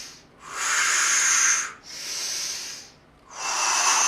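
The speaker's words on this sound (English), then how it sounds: "I'm breathing really loudly just so you're cued to continue to breathe." Deep, loud breaths during a seated chair yoga session, three long airy hissing exhales and inhales in slow rhythm, close to the microphone with no talk.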